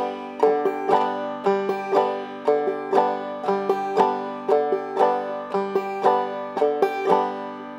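Banjo in clawhammer style, a steady bouncy pattern of plucked notes with an off-kilter accent from the fifth string falling on beats one and three, played alone and close.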